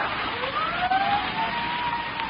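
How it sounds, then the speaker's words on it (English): Emergency vehicle sirens wail in a steady rising and falling tone, distant and muffled under a constant band-limited hiss, like an old radio drama. "Sirens. Can't you hear them?"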